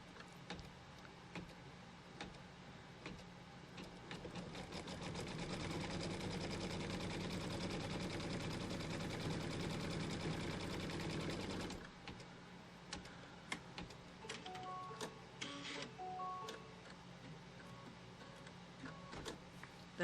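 An embroidery machine tacks down a quilt strip in a hoop with steady, fast mechanical stitching. The whirring runs continuously for several seconds and then stops, leaving quiet handling noises close by.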